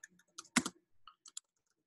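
A few soft keystrokes on a computer keyboard, close and faint, tapped in an uneven rhythm with short gaps of silence.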